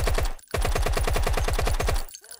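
Rapid automatic gunfire in the video game The Killing Antidote: a dense, evenly spaced volley of loud shots, a brief pause after the first few, then a long sustained burst.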